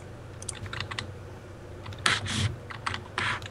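Bursts of quick clicking keystrokes on a malfunctioning computer keyboard, close and fairly quiet, in uneven clusters with short pauses between them.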